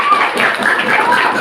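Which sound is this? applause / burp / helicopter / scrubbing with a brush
applause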